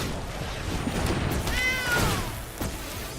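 A cat meows in a video game card battle, one drawn-out, rising and falling meow over background game sounds, with a couple of thuds.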